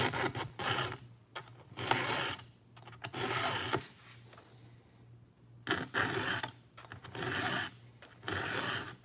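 A hand file is stroked across handsaw teeth at a 30-degree angle, a close, rhythmic rasping in repeated bursts of about a second each with short pauses between, and no talk.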